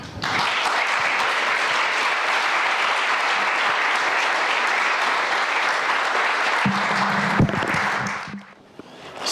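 Sustained audience applause fills a hall as speakers are welcomed onstage for a literary conversation, loud and steady for most of the stretch before tapering off near the end.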